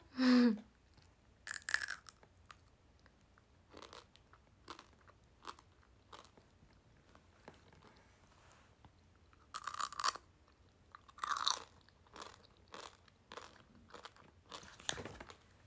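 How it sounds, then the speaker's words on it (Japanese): Crunchy food is bitten and chewed close to the mic in ASMR style, with sparse crisp crunches scattered across quiet gaps, a few louder clusters of bites and a faint crinkle, and no talking. "これ咀嚼音好きじゃない方もいるかもしれないのでちょっとだけねっ"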